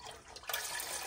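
Low sodium chicken broth pours steadily into a cooking pot for a Zuppa Toscana soup, a continuous close liquid splashing and gurgling with no talk.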